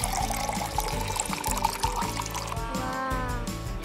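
Cooking oil pours steadily into a container for a few seconds during a kitchen density experiment, a continuous close trickling gurgle with a faint tone rising as it fills.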